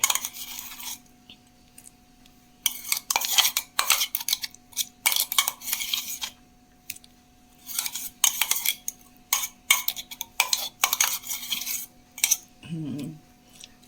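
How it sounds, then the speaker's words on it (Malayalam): Lubika chutney being stirred with coconut oil, a spoon scraping and clinking against the bowl in quick, irregular bursts, close and fairly loud, with no talk. "ഇങ്ങനെ നന്നായി ഇളക്കി"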